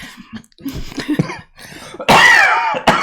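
A person coughs several times up close, rough throaty bursts ending in a loud, harsh hack.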